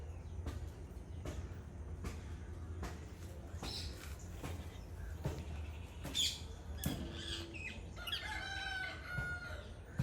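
Parrots squawking and calling just outside a window, with repeated sharp cries over a steady low background hum, fairly close and loud toward the end.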